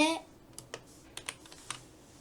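Sparse computer keyboard taps, a handful of separate crisp clicks spaced irregularly at moderate volume, following a brief faint voice at the start.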